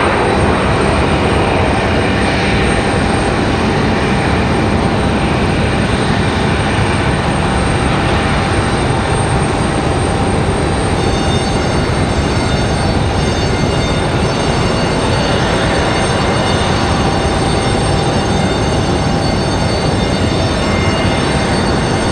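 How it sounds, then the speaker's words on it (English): A United Mesa Airlines Embraer E175 jet airliner at Raleigh Durham airport roars loudly and steadily, a broadband engine rush that stays near and constant throughout, with a thin high whine joining midway. "There's that United Mesa Airlines from Washington Dulles, E175."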